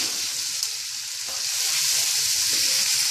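Vegetables for chow mein stir-frying in a hot pan, a loud continuous hiss and crackle close by with light stirring movements, no voices.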